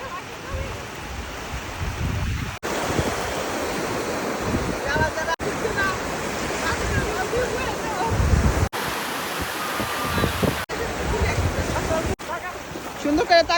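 Ocean surf on a beach in Lisbon, Portugal, a steady broad wash of breaking waves with wind buffeting the microphone, continuous and loud across several cuts.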